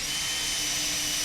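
A power tool whirs steadily while undoing fan ventilation grid bolts in the Android Simulator video game, a continuous high-pitched drill-like whine that holds evenly through the short moment with no talking.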